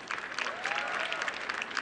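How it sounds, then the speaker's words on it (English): An audience at a university graduation ceremony claps steadily in dense, fairly distant applause with a few scattered cheers, heard as a continuous crowd texture. "Let's cheer them up."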